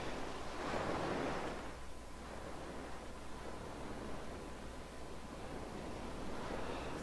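Soft ocean waves in Pokémon Ultra Sun roll in quietly, one fuller swell breaking early before settling into a low, even wash of faint surf noise.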